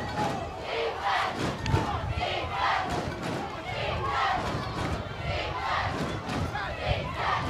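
A college football stadium crowd roars and chants at a game between Rowan and Christopher Newport, a sustained, surging wall of cheering with faint voices mixed in.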